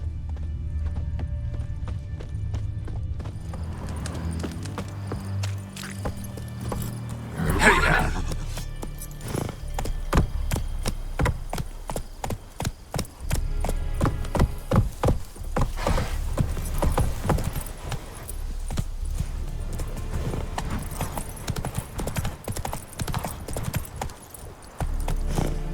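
Roach, a horse in The Witcher 3, clip-clops steadily at close range with brisk hoofbeats, plus a brief neigh early on, while game voices talk under the trotting.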